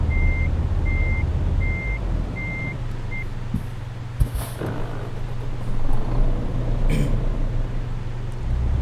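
An APSRTC bus in Euro Truck Simulator 2 reverses on a narrow village road, its backup alarm giving five evenly spaced beeps over a low engine hum, then falling silent as the engine idles and a few clunks follow.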